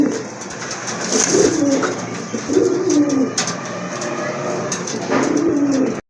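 Several domestic pigeons, including a large white hen bird, coo in a loft, with repeated low throaty rolling coos overlapping steadily and close by, plus faint rustling around them.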